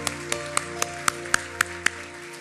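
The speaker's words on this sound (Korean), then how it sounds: "우리 한번 하나님께 감사의 박수를 드리겠습니다." A church congregation clapping during a Sunday worship service: eight evenly spaced sharp claps in a steady rhythm over a sustained organ-like musical drone, fairly faint.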